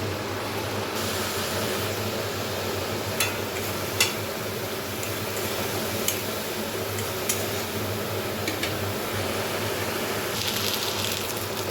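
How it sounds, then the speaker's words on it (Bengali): Ground onion, garlic, ginger and green chilli paste frying in a pan for prawn malai curry, a steady low sizzle with occasional light stirring clinks, close and continuous with no talk. "সেটা দিয়ে খুব ভালোভাবে ভেজে নেব"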